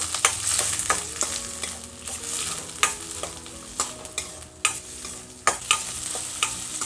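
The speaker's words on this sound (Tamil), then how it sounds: "இதெல்லாத்தையும் சேர்த்து நல்லா வதக்கிக்கோங்க." Onion, garlic, dried chilies and curry leaves sautéing in a pan for karunai kizhangu kara kuzhambu, a close steady sizzle broken by repeated sharp spatula scrapes and knocks, no voices.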